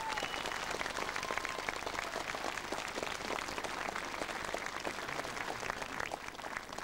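Distant, fairly quiet applause from a crowd at an All-Ireland championship event at the National Stadium, a continuous patter of many hands clapping without pause.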